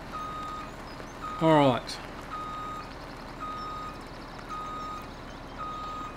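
Truck reversing beeps from Farming Simulator 17 sound as a regular series of evenly spaced electronic pips behind a low engine hum, with someone talking briefly over them.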